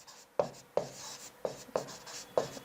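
A pen scratches across paper or a board during a math lesson, making five quick, close strokes in an uneven rhythm, each a short scraping burst that fades quickly.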